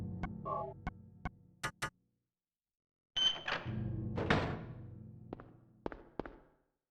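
A weapon reloading in the PS1 game Silent Hill produces a sequence of crisp mechanical clicks and clacks, then after a brief silence a louder burst of metallic clatter followed by a few final sharp ticks.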